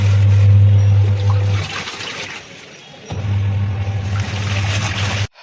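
Rinse water draining out of a washing machine: a loud, steady pump hum with rushing, gurgling water runs, pauses briefly, then resumes before cutting off, with no talking.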